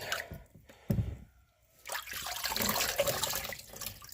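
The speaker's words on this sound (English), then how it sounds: "and then we drop it and we rinse it" Water splashes and runs over a freshly hydro-dipped part as it is rinsed, with a brief splash, a short pause, then a couple of seconds of steady gushing flow.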